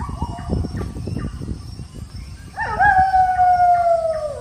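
A wolf in a children's toy animal-transport setting lets out a long, rising then steady howl in the second half, loud and close over a murmuring, busy background.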